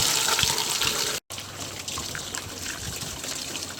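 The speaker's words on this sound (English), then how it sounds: "I'm gonna flush out the radiator with the water hose and see what else comes out" Water from a garden hose runs through a car radiator being flushed out, a steady splashing, trickling stream that cuts off for an instant and then resumes, continuous and fairly close with no voices.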